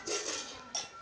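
Utensils and dishes being carried at home, giving two brief metallic clinks a moment apart, fairly close but quiet.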